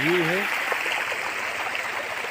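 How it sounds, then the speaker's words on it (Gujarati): Water pours out steadily from a 6.5 horsepower motor pump on a groundnut farm. The rushing gush is loud and continuous, with a voice briefly heard at the start. "આ સાડા છની મોટર છે આવું કંઈક પાણી કાઢે છે"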